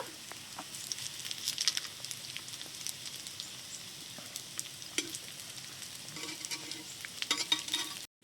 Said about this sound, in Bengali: দিয়ে আমি সব কটাই একটু পিঠ ঘুরিয়ে ও পিঠটাও একটু তেলে ভেজে নেব।